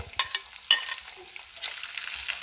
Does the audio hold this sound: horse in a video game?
no